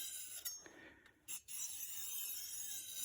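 Cheap kitchen knife blade drawn across a sharpener: a few brief, faint rasping strokes early on, then a softer continuous scraping hiss, quiet and close with no voices.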